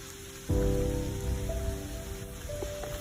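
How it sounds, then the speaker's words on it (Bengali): Heavy rain in Tinchuley, Darjeeling, a dense steady downpour that starts abruptly and keeps up a loud, even hiss on surfaces, with a faint tonal hum in the background. "মানে তুমুল ঝড় ঝড় বৃষ্টি"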